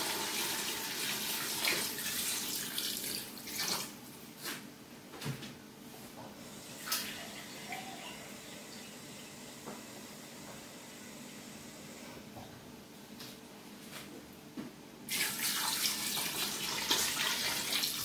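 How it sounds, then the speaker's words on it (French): Water pours steadily into a cooking pot for couscous, a soft continuous splashing stream that dips and pauses midway before resuming stronger, with a few faint knocks around it. "Je rajoute l'eau."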